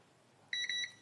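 Beeping from the wheel sensor of a Roborock S7 robot vacuum with a 'wheels suspended' fault, sounding while the sensor is not pressed: a near, high electronic tone that starts suddenly halfway through and repeats in short pulses, with no talking.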